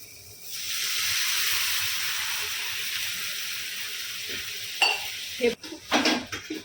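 Water is poured into hot fried masala in a pan, setting off a loud sustained sizzle, then spoon scrapes and stirring clatter as the hiss fades.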